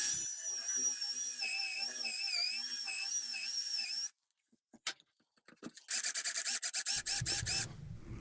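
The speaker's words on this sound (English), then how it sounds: "I'm just drilling some holes with a Forstner bit to get started with my jigsaw." A Forstner bit whines through wood in a continuous, wavering tonal drone for about four seconds, then stops and gives way to scattered clicks and a burst of rapid rattling, near and fairly loud.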